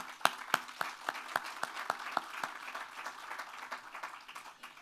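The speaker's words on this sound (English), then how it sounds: "Let's give you a round of applause." Audience applause at a groundbreaking ceremony for the Oakland Cemetery visitor center in Atlanta: sharp individual claps ring out at a steady pace, then thin into softer, scattered clapping that continues to the end.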